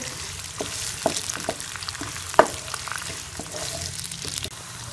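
Finely chopped onions, two of them, fry in oil for a chicken and spinach curry, giving a dense, close sizzle broken by small pops and stirring scrapes, with a sharper crackle near the middle.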